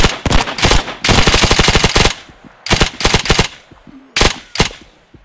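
A mounted machine gun in the World War II game Hell Let Loose fires loud, close bursts of rapid shots, with short pauses between volleys and one long sustained burst.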